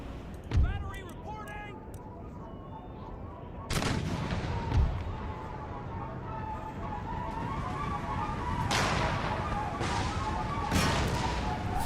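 Cannon and musket fire from an Empire: Total War battle, with several heavy booming shots over a constant background rumble of gunfire. Someone talks throughout the clip.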